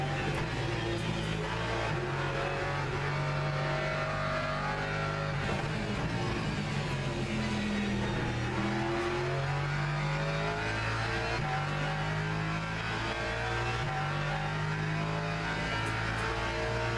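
Alpine GT3 race car in a racing game, the engine note stepping down through repeated downshifts with revving blips and pitch drops, loud and close throughout, no talk.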